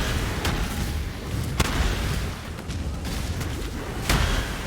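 Spell explosions go off in the video game Path of Exile during a Blade Vortex Occultist build, a dense, continuous roar of game noise broken by sharp, booming bursts.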